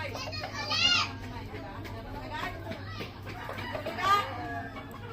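Several roosters and hens of a red pumpkin gamefowl bloodline cluck and call near the mic at a farm, with two louder crowing bursts over a low steady hum, and children and other people chattering in the background.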